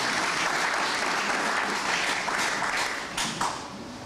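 Steady audience applause at a Botswana football administration tribute, a continuous wash of many hands clapping, fairly distant and even throughout.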